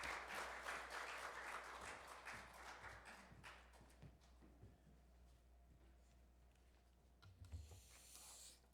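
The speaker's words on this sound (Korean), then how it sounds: "우리 목사님 나오실 때 환영의 박수로 맞이하시겠습니다." A church congregation applauding to welcome the pastor at a Sunday service, a dense clapping that is fairly faint and fades over several seconds before a lone noise near the end.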